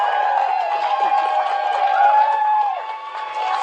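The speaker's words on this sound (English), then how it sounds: "Small crowd, but big cheers." Small crowd cheering and calling out as NASA astronauts Bob Behnken and Doug Hurley appear and wave before a SpaceX launch, a steady continuous roar of mixed voices with some distinct shouts, fairly close and loud.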